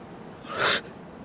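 One short, sharp sneeze sounds close to the microphone, a single breathy burst against a quiet background, with no talking around it.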